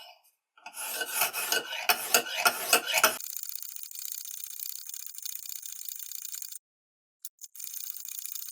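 A knife blade strokes across a Lansky sharpening system stone in a quick run of close, raspy scrapes, followed by a quieter high-pitched hiss with brief gaps.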